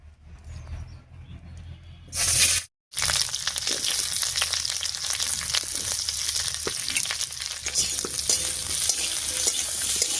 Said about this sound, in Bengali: এবার এই তেলের মধ্যে পেঁয়াজ আর ক্যাপসিকামটা ভেজে নিচ্ছি।